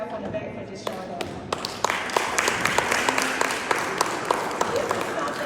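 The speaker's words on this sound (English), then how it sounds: "just give yourself a round of applause and pat yourself on the back for just showing up." Applause from an audience at a youth encouragement event, scattered claps building into a steady broadband patter with sharper individual claps standing out, fairly close and mixed with crowd murmur.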